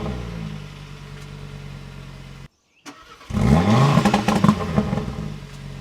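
An Audi RS3 8Y engine sits idling, cuts to a brief silence, then cranks and fires with a sharp rising rev before settling into a loud, throbbing idle close by.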